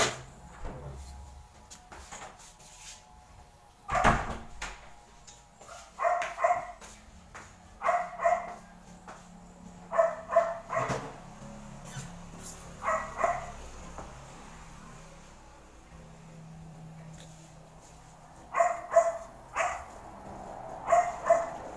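A recently whelped mother dog at a Filipino farm home barks in short, sharp bursts, scattered in clusters through the clip. The barks sound moderately close, with quiet gaps between them and little talk.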